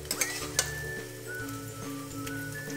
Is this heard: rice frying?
yes